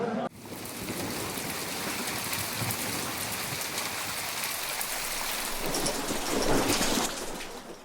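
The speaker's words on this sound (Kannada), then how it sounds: "ಮಳೆ ಸ್ಟಾರ್ಟ್ ಆಯಿತು" Steady heavy rain pours down with rumbling thunder during the Tiruvannamalai Karthigai Maha Deepam festival, a dense continuous wash that swells louder near the end, with no clear voices.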